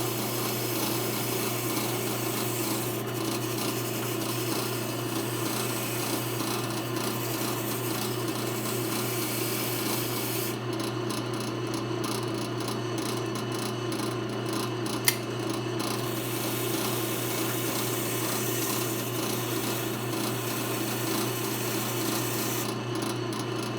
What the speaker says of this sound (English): Just a little bit of wire brushing and the thing looks like almost new.